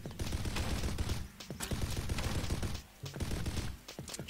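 Rapid machine-gun fire in the video game Gunnihilation, dense sustained bursts that briefly break off around the midpoint and again near the end, loud and dominant, with no talk.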